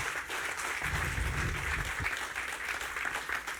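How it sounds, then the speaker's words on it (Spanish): Church congregation applauding, a dense steady wash of many hands clapping, sustained throughout and moderately loud. "Dale un aplauso al Señor."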